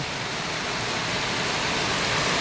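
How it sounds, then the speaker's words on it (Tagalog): Heavy typhoon rain pours down in a steady, dense roar with no letup, loud and close, with no voices over it. "sobrang malakas na ngayon ang ulan"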